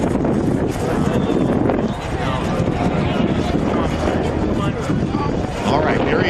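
Strong gusting wind at an airfield roars and buffets the microphone in a dense, continuous rush, with talking mixed in under the noise.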